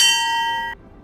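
A notification bell sound effect rings once, a bright clear ding with a shimmering tail that cuts off abruptly after under a second.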